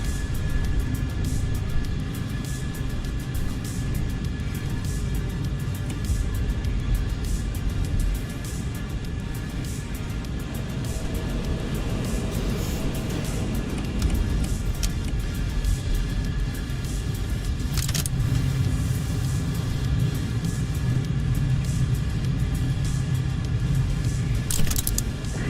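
An F-14 Tomcat jet roaring past in a supersonic flyby in Microsoft Flight Simulator, a steady heavy engine rumble that holds throughout and swells slightly midway, with no talking.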